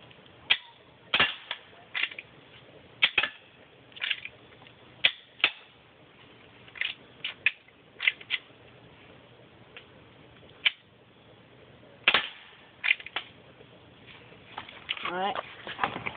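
Sig Sauer SP2022 pistol shots fired in a series, sharp isolated cracks spaced irregularly over about sixteen seconds, with people talking between them.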